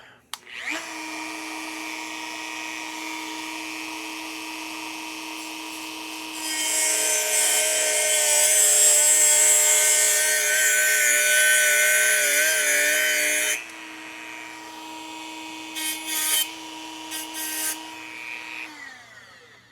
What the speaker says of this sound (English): So let me plug my Dremel back in